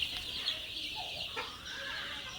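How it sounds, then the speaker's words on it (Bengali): Nine-day-old Sonali super hybrid chicks clucking and peeping in their brooding pen, a brief chorus of soft chirps and clucks at moderate distance. "আমার সোনালি সুপার হাইব্রিড মুরগির বাচ্চার বয়স হচ্ছে নয় দিন"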